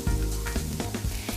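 A stuffing mixture seasoned with salt, pepper and thyme sizzles in a hot pan, a steady close crackle with light stirring knocks and no talking.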